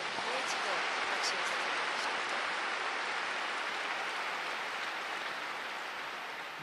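Applause for the missionaries at a Korean church service: a dense, steady, even wash of clapping from a congregation, sustained for several seconds and fading slightly toward the end.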